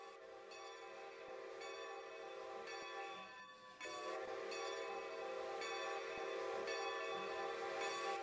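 A Strasburg Railroad excursion train pulls into the station at night, its horn sounding in long sustained tones with rolling rail noise underneath, heard from some distance.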